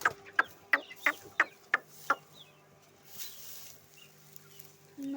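A country hen in a backyard coop gives a rapid run of about seven sharp clucks, then goes quiet apart from faint rustling before a soft thump at the end.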